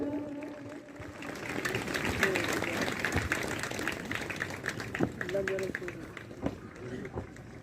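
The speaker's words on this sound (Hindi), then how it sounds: "तो तालियां बजती रहे।" Audience clapping at a police passing-out parade on a parade ground, steady applause running under a loud announcer's voice on a public address system.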